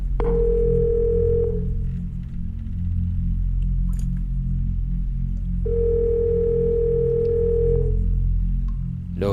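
A cellphone rings indoors near a bathroom, two bursts of a steady electronic tone with a pause between, heard loud and close over a low background hum.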